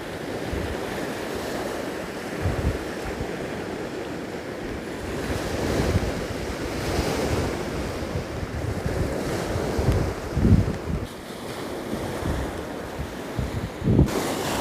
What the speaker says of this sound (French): Je vous laisse avec le bruit des vagues